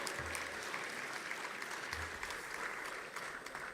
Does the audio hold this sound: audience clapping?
yes